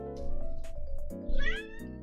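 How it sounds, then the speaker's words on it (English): A house cat meows several times in a row, close and clear over a steady low indoor hum, with one longer rising call near the end. "What a kitty cat."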